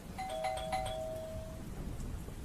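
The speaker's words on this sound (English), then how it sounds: "the doorbell rang again" A two-tone electronic doorbell chimes once, a clear ding-dong ringing out and fading over a quiet background hum.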